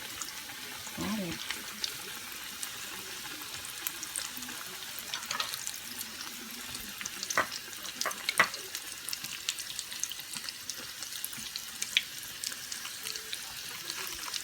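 Sausage and cheese rolls deep frying in hot oil over medium heat, a steady soft sizzle with scattered pops and crackles running throughout, close and moderately quiet.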